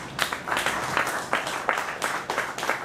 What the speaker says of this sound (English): You guys, you don't have to clap between poems.